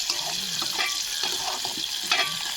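Dried fish curry being stirred in a pan on a home kitchen stove, with a steady close sizzle broken by soft scraping strokes of the spoon; no one speaks.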